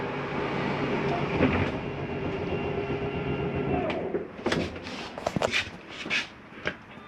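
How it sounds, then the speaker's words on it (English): Slide-out mechanism on a 2019 Grand Design Reflection 315RLTS RV: a steady mechanical drone gives way to a series of sharp, irregular ratcheting clicks and knocks that resemble grinding gears, fairly close. "That's the slide mechanism telling itself not to come in any further."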